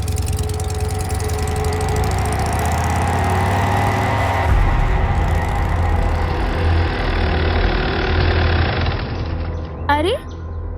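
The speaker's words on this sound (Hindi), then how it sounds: "बाइक स्टार्ट कर।" A motorbike engine runs steadily with a low rumbling drone for most of the time, while voices talk over it near the end.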